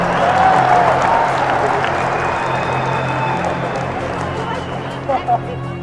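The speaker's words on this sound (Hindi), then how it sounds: "ठोको ठोको ताली ठोको" A political rally crowd in India applauds and cheers, a loud dense wash of clapping and crowd noise that fills the whole stretch and tapers slightly toward the end.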